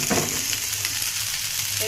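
Onion fries in a pan with a steady, close sizzle and faint stirring noises, loud and continuous for a couple of seconds with no talking.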